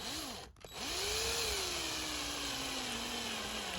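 A small power drill boring holes in a 1/64 scale John Deere model, a brief whine that stops, then a steady high motor whine that rises and slowly drops in pitch, close and alone.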